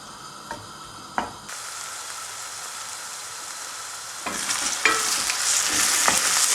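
Oil sizzles loudly as chopped onion and green peppers are dropped into a hot pan, with a few clinks of a utensil, the hiss rising as stirring begins.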